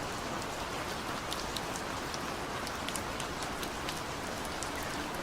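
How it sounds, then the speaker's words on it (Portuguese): Steady rain falls throughout, an even hiss of drops with occasional sharper patters, moderately quiet and without voices. "Chuva."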